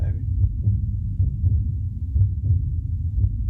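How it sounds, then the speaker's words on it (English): A heartbeat in a prog metal album track: steady, deep thuds in double beats, repeating evenly at a moderate pace over a low droning hum. "Heartbeat."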